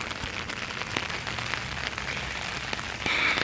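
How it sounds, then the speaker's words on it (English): Steady rain falls outdoors as a dense, even patter of drops that stays constant throughout and gets slightly louder near the end, with no voices. "What's up right now is rain coming from the sky."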